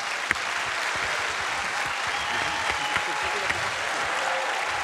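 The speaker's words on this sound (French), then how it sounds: "j'aimerais que vous applaudissiez tous, chacun votre parrain ou votre marraine" Audience members at a company success day event applaud together, producing steady, moderately distant clapping that continues evenly throughout.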